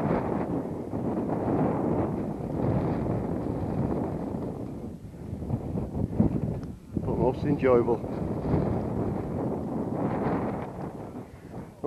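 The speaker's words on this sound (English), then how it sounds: "Getting a bit windy." Strong wind buffets the microphone in a constant roar on a mountainside partway up Snowdon in North Wales, with someone talking briefly over the gusts partway through.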